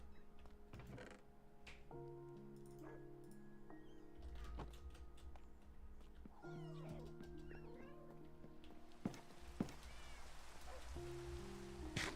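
Minecraft rain falls as a faint, steady patter and hiss beneath background game music, with cat meows cutting in at times.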